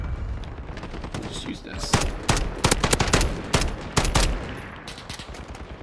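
An FAL rifle fires in a video game, with rapid cracking bursts bunched in the middle of the stretch. They sit over constant background game noise while someone talks briefly.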